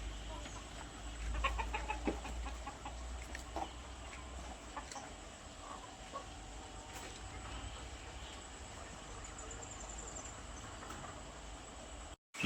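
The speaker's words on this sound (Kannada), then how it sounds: "ನೋಡಿ ನಾಟಿ ಕೋಳಿ ಒಂದು 100 ನಾಟಿ ಕೋಳಿ ಸಾಕೊಂಡಿದ್ದೀನಿ" Around a hundred native country chickens on a farm cluck and chatter in scattered bursts, busiest early on, then settle into softer intermittent clucks over a steady outdoor hum.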